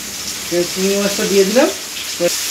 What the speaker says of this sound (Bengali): এটা ভেজে নেওয়ার পর জাস্ট একটা হালকা গোল্ডেন কালার আসবে